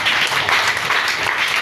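A church congregation bursts into brief, dense applause to acclaim the Lord, loud, close and continuous throughout.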